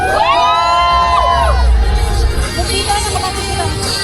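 A festival crowd at Bicol Loco in the Philippines cheers and shouts loudly for a few seconds, with whoops and a booming bass thump underneath, then the noise fades into general babble.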